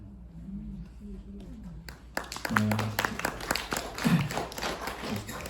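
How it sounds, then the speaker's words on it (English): An audience at a poetry reading breaks into moderate applause after a poem; clapping fills the room from about two seconds in, following a short stretch of quiet talk, with voices underneath. "You guys, you don't have to clap after each one"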